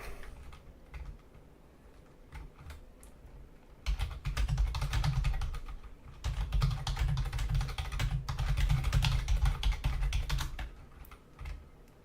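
Quiet keyboard typing at first, then bursts of rapid, clattering keystrokes close up, continuing in long runs with short pauses.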